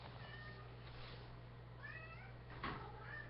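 A cat meows a few times at moderate distance over steady low background hum, the calls faint and separate with short gaps.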